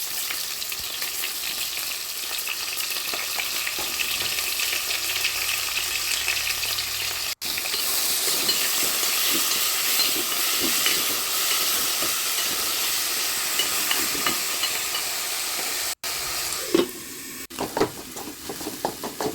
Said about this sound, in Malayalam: അതിനുശേഷം ഒരു കുറച്ച് ഉപ്പ് ഇട്ട് നമുക്കൊന്ന് ഇളക്കി വെക്കാം